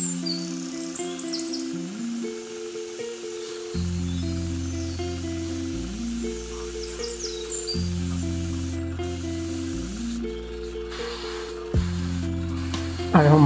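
Paint is sprayed onto a 1/72 scale Su-30MK-1 Flanker model aircraft, with short airy airbrush hisses faint beneath louder background music.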